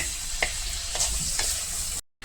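Uttapam ingredients sizzle and fry in a pan while a spoon stirs them with a few distinct scraping strokes. The frying is steady and close, there is no talk, and it cuts to silence at the end.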